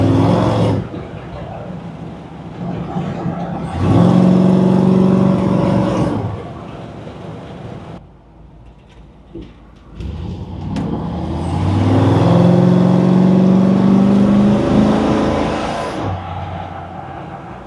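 A car with an Edelbrock ProFlow fuel-injected small-block Chevy engine drives off, its engine rising and falling through several revving accelerations with brief quieter lifts between, loud and close from inside the vehicle.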